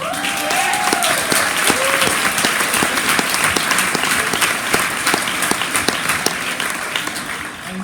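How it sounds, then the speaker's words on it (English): An audience at a Barnes and Noble bookstore author event bursts into loud, sustained applause, with a few sharp individual claps standing out and a voice or two calling out briefly. "So a big round of applause for..."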